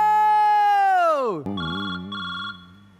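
A telephone in a Marathi comedy sketch rings in two bright, repeated bursts, following a long, loud tone that slides downward. Nothing else is heard over the ringing.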